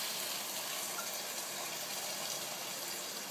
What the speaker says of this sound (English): I'm going to add approximately 3 cups to 4 cups of water.